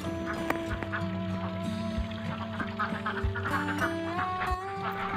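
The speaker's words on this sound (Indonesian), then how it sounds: "kita melakukan peternakan bebek pedaging" Ducks on a meat duck farm quack and honk in a busy, overlapping chorus, a flock close by with repeated calls throughout and no talking.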